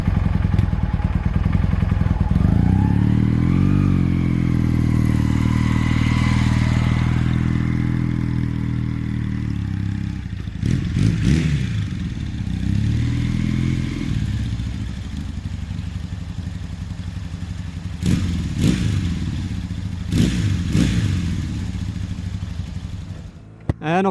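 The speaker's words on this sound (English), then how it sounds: "let's take this bike on a test ride." Honda CB450 motorcycle on a test ride, its engine revving loudly, then settling into a steady running drone, broken by a few sharp bursts and clatters as it pulls away and accelerates.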